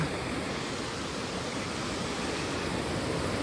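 A river flowing in an outdoor stream bed, heard as a constant, dense rushing wash of water at steady volume, close and uninterrupted, with no voices.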